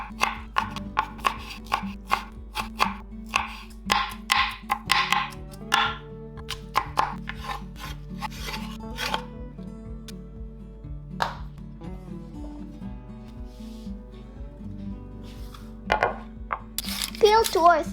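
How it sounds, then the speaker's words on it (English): A knife chops pineapple on a cutting board in quick bursts of crisp, close knocks, pausing and resuming, with a low hum beneath and a brief clatter near the end. "Then roughly chop to make a 1 cup of crushed pineapple."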